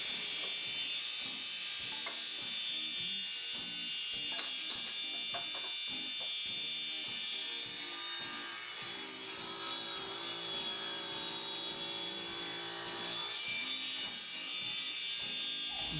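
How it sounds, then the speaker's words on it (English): Table saw ripping 2x6 boards down to 2 inches wide, a sustained high whine with repeated rough cutting and rubbing textures continuing throughout, close and fairly loud. "I'm going to set my table saw at 2 inches, and we're going to run these through there and cut them down to the final width"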